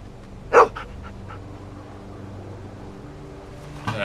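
A dog in The Walking Dead Season 2 video game gives one sharp, loud bark early on, then a quieter second bark near the end, with only low game ambience in between.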